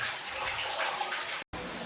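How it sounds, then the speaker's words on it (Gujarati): Water trickles and splashes steadily from an overhanging rock slab onto a Mahadev temple shrine at Osam hill, a close, continuous watery patter with a brief cut near the end. "એ આખી શિલામાંથી પાણી અહીંયા મહાદેવની ઉપર ટપકે છે"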